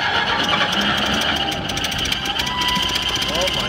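An 86-year-old 1929 Ford Roadster pickup engine cranks and catches, a steady mid-pitched mechanical churn running continuously with excited voices talking over it.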